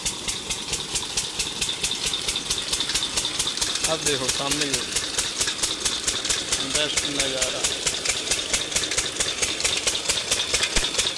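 An engine in a village field pumps irrigation water, a fast, even knocking thump running steadily throughout while someone talks over it.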